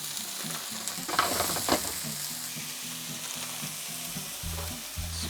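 Frozen spinach fries in olive oil for an omelet filling in a small kitchen in Japan. A steady close sizzle carries on throughout, with a few brief scraping stirs early on and a low tonal hum underneath.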